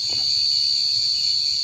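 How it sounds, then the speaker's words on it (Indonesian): Crickets trill in a continuous high drone on a cold, deserted night, with a faint brief rustle near the start. "Ini suara jangkrik,"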